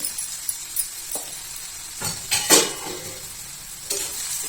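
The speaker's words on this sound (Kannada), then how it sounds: "ಇದೆಲ್ಲವನ್ನು ಸ್ವಲ್ಪ ಎಣ್ಣೆಲಿ ಹೀಗೆ ಬಾಡಿಸ್ಕೊಳ್ಳೋಣ" Onion, green chilli and curry leaves sautéing in oil make a low, steady sizzle, with several sharp scrapes and clinks of a spoon against the pan rising above it up close.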